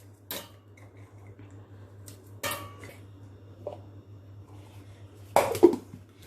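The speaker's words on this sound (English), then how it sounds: "First we'll break the Oreos and put it in a mixture." Oreo cookies snapped by hand and dropped into a mixer jar make a few sharp, separate cracks and clinks against quiet near-silence, the last one louder and clattering, with no speech.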